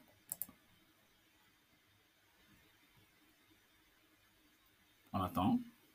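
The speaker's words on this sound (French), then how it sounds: "On peut cliquer ici." Computer mouse clicks in an Outlook client, a quick double click near the start, then near silence, then a brief louder burst of clatter near the end.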